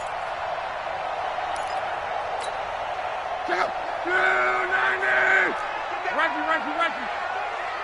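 Stadium crowd in a football video game roars steadily, swelling into cheers midway, with a commentator talking over the noise.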